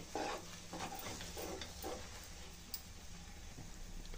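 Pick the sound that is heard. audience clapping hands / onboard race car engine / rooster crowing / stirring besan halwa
stirring besan halwa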